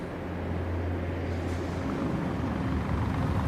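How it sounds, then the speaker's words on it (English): A helicopter in a snowy VALORANT cinematic gives a steady, loud droning rumble with a low engine hum throughout, no voices. "Okay, helicopter."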